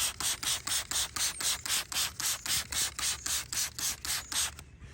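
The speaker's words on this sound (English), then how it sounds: "just gonna go ahead and spray it on." Repeated short bursts of a trigger spray bottle misting Armour Detail Supply Pilot interior detailer onto a car floor mat, about fifteen quick, evenly spaced hisses, close and fairly loud, with no talk.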